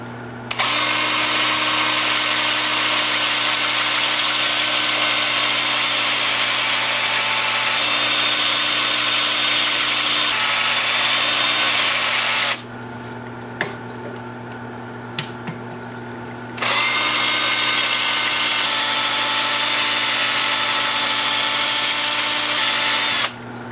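A power sander whines loudly and steadily against a wooden bowl on a wood-turning lathe, pauses for several seconds with faint clicks, then starts up again.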